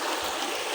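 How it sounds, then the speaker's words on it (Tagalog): Steady broadband rush of a river flowing nearby, continuous and even without breaks, no voices over it. "narito ako ulit sa ilog"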